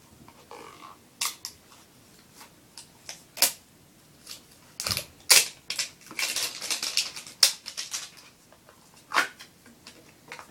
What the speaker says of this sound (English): Let me get it unwrapped first.